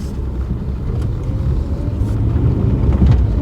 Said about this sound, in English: Let's take it for its first little test drive up the lane, private road of course